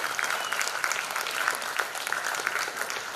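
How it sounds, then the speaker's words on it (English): A large audience at a university day celebration gives a sustained round of applause for awardees. Dense, loud clapping from many hands continues evenly throughout. "Big round of applause for all the awardees tonight."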